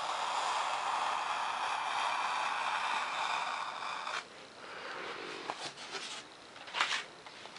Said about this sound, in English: I'm just scoring these lines. Make sure you don't cut all the way through